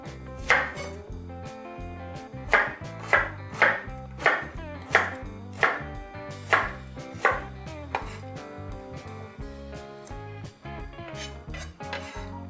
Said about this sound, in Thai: ซอยหอมแดงกันก่อนเลยค่ะ